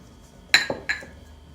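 A utensil clinks against a bowl while whole wheat flour is stirred into baby bread dough, giving three sharp, close knocks spaced a fraction of a second apart in an otherwise quiet kitchen.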